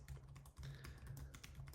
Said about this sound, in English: So I'm just going to type